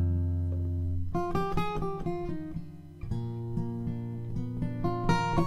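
Yamaha LSX-26C acoustic guitar heard through only the bass-side contact pickup, a dark, boomy tone with a low sustained note followed by plucked, picked notes, fairly quiet and alone.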